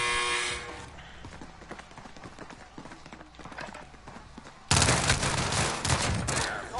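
Gunfire in Call of Duty Warzone, with a loud sustained burst at the start, scattered quieter game noise in the middle, then another dense, loud volley toward the end.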